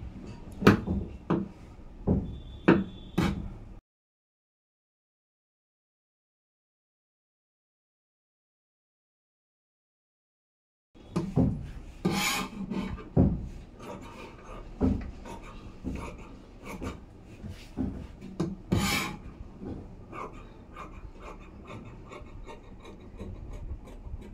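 Scissors cut through blouse fabric for a back piece in rhythmic snips and rustles, close by, with a long silent gap partway through before the cutting resumes.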